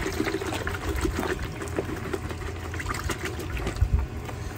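A baking soda and water solution used to clean corrosion from old marine and automotive electrical connections is poured out, making a steady trickling, splashing flow that runs throughout.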